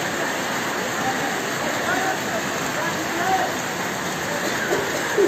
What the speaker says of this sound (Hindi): ये भी बर्खा देख क्या